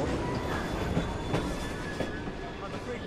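Train moving in Assassin's Creed Syndicate, a continuous rumbling rail roll with rhythmic clacks and faint wheel squeal, steady and close, with a voice talking over it.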